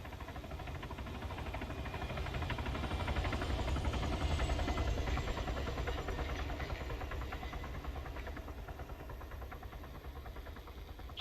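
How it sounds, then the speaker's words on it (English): A military helicopter in the video game ArmA 3 approaches as a continuous low rotor drone with engine whine. It swells to a peak midway and then eases slightly, with no voices over it. "You hear that? Sounds like a helo."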